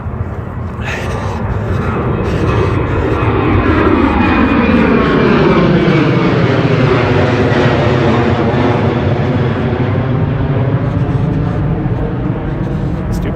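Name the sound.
airplane taking off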